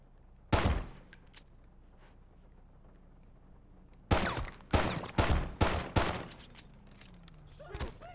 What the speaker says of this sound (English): there's a fucking shootout